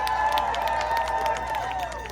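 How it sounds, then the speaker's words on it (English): Crowd applause and cheering at an outdoor immigration rally in front of a state capitol, steady dense clapping with scattered whoops, fairly loud and close, fading slightly toward the end. "Let's give them one more round of applause."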